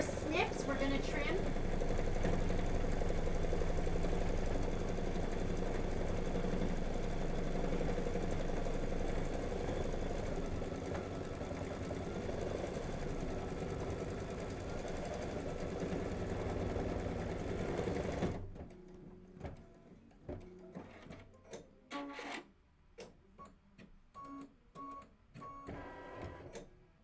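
An embroidery machine stitching out a design runs with a loud steady mechanical whir, then stops abruptly, leaving quieter clicks, handling noises and snips.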